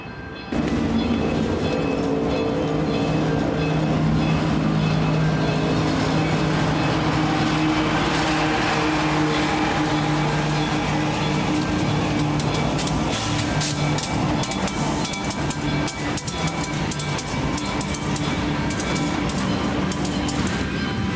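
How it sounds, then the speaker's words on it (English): A southbound Union Pacific grain train rolls past at close range, its loud, continuous rumble mixed with rapid metallic clatter and squeal from the wheels, holding steady for the whole passage. "The first train I would catch would be a southbound UP grain train that would stop at South Junction to meet a BNSF eastbound."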